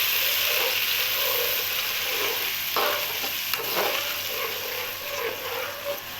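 A tomato and green chilli paste sizzles and bubbles steadily in a pan for a village-style masala fish curry, loud and close with occasional spoon stirs, no voices.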